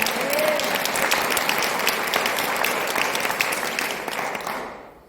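Church congregation applauding during a Korean worship service, steady and full clapping from the whole room that fades out at the end.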